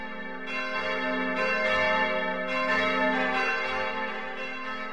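A church bell rings out steadily to call the congregation together, its sustained, resonant tones overlapping with new strikes about every second or so, loud and continuous throughout.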